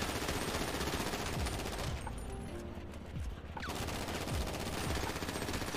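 Rapid bursts of gunfire from a GTA roleplay video game, dense and continuous across the whole stretch with a brief thinner gap in the middle.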